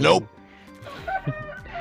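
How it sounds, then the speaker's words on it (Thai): Rooster crowing once in a computer game, a short loud burst at the start followed by quieter game sounds. "โอ้โหไก่ขันไปหนึ่งทีเลย"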